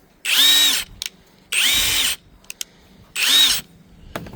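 Budget 21 volt cordless impact wrench spinning up in three loud bursts of whirring, each lasting about half a second with short clicks between, close and alone.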